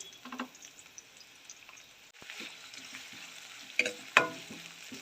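Onions and curry leaves sauté in oil for a radish and dried fish kuzhambu, giving a soft, steady sizzle with a few sharper crackles and a brief stir scrape near the end.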